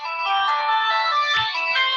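A mobile phone ringtone plays a bright, continuous electronic melody in a classroom during a maths lesson, fairly loud and alone.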